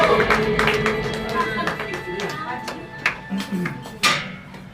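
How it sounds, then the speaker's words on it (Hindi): An audience at a direct selling achievers' event on stage applauds in a busy, clattering wash of claps mixed with crowd noise and background music, with a few louder claps near the end. "जबरदस्त तालियों से स्वागत करेंगे।"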